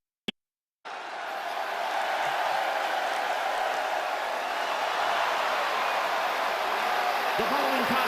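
A steady roaring crowd cheers in a wrestling video game arena. The loud, continuous noise of the audience begins abruptly after a brief click and silence, then holds level throughout.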